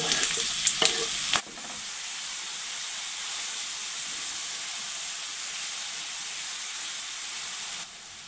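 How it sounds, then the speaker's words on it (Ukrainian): Onion frying in rendered bacon fat, a steady close sizzle and hiss that follows a few brief stirring clatters at the start and runs evenly, with no talking. "Бекончик витопився, став підрумянюватися. Тепер додаю цибульку."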